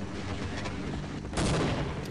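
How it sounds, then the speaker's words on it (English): A tau cannon fires in Half-Life, a continuous crackling energy discharge that surges louder about two-thirds of the way through, dense and close with no voices. "you can charge the tau cannon for more damage"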